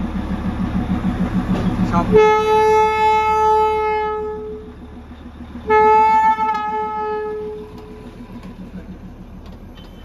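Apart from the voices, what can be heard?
Darjeeling toy train arriving at station, engine and horn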